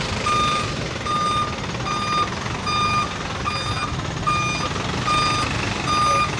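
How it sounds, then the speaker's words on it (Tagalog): A truck on a busy Manila street sounds its reversing alarm, a steady series of evenly spaced electronic beeps over low engine rumble and street noise, moderately close. "Ayan, may truck."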